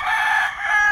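A rooster crows loudly and close by in one brief, strained call, in the rural countryside of Marilog among many chickens.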